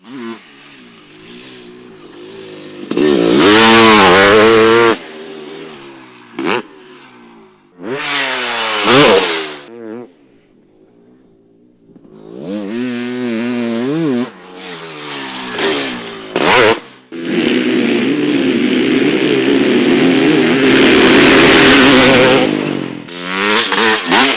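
A fuel-injected YZ CR500 dirt bike engine revs hard at full throttle in several loud, close bursts with pauses between them, ending in a long sustained high-rpm roar. No voices are heard.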